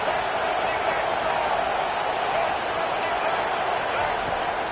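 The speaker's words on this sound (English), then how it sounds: "listen to the roar of this crowd" A dense, steady stadium roar from the crowd in the College Football 25 video game on PS5, loud and continuous with no break from start to finish.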